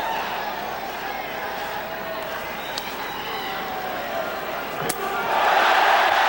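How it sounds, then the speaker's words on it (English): An arena crowd at a Pride FC mixed martial arts fight murmurs and roars in a continuous wash, swelling louder near the end, with a sharp impact cracking through midway. "Listen to the crowd reaction."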